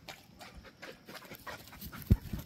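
A dog pants and laps water at a creek behind a campsite, with quick rhythmic breaths and a couple of louder splashy gulps near the end, heard close against faint outdoor background.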